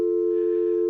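A steady, loud telephone dial tone generated by an analog synthesizer, holding one unbroken pitch with a faint overtone above it, alone and without talk.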